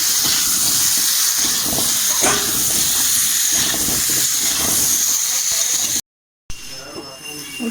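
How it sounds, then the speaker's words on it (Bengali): Potatoes seasoned with salt and turmeric fry in a pan for a Bengali crab curry, producing a loud, continuous hissing sizzle that cuts out briefly near the end before resuming. "আলুটাও ভালোভাবে ভেজে নেব আমি।"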